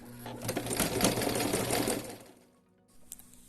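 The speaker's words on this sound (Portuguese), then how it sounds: "desça o pezinho da máquina e vou costurando aqui a costura reta" A home sewing machine stitches a straight seam on the lining of a crochet bag, a steady close whirring rattle lasting about two seconds before it slows and stops, followed by a brief soft clunk.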